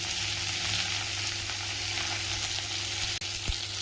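Diced potato and carrot fry for chira pulao with a steady, dense sizzle that holds close and loud throughout, broken near the end by a brief stir.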